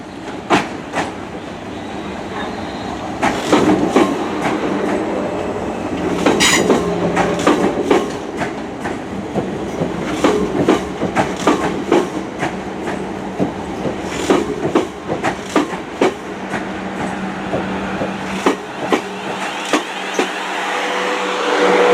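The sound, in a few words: Class 444 Desiro train departing station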